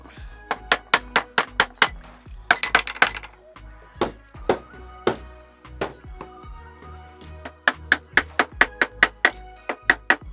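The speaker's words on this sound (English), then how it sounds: "Using a rubber hammer to knock on wood." A rubber hammer knocking on the wooden parts of a broken yoga stool during repair, giving irregular sharp knocks in clusters, some rapid and some spaced, close and fairly loud.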